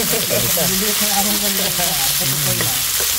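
Plenty of sliced onions fry and sizzle steadily in a pan for fish biryani, browning almost to caramelized, with a continuous loud hiss and occasional stirring while people talk over it.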